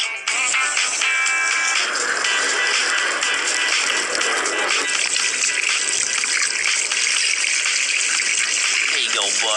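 Water gushing steadily while a pet is washed, a loud continuous rushing stream that runs close and unbroken, with no talk over it.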